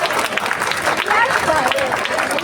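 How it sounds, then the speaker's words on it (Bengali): An audience claps at a high school annual function and prize distribution, a steady, dense burst of applause filling the room throughout, with voices mixed in. "হাততালি দাও তোমরা।"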